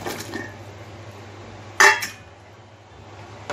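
A single clatter of chopped vegetables tumbling into a metal pot of dried-fish curry, with a brief clink, over a low steady hum from the stove.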